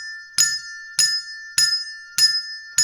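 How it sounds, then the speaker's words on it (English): Colored tuned hand bells played by young children in a preschool music activity, four evenly spaced bright ringing strikes, each sustaining briefly before the next, clear and close with no talk. "you can do those kind of activities really easily with these bells"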